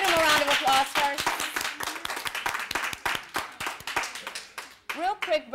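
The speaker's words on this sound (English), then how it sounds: "let's give them a round of applause first." Audience applause for a Brave New Voices youth poetry team at a live event, a dense rattle of clapping hands throughout with a person talking over it and a voice rising near the end.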